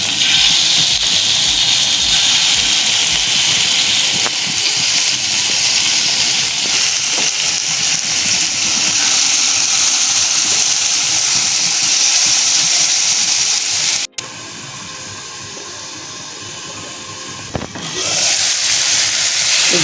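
Spice-marinated chicken pieces fry in refined oil in a pan, giving a loud, steady broadband hiss that drops briefly near the end before surging back.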